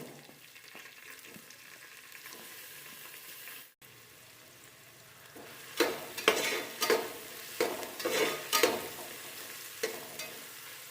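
Onions with fennel seeds frying in hot oil in a pressure cooker, a loud close sizzle after a short quiet gap, broken by repeated stirring scrapes and bursts of crackle.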